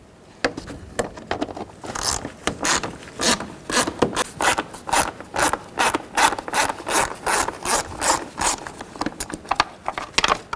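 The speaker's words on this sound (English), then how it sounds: "Take a T25 and loosen up all these screws around the airbox." Repeated short ratcheting and rubbing bursts as a T25 driver loosens the screws around the airbox on a 2010-16 Buick LaCrosse, a steady rhythmic clicking run close up with no talk.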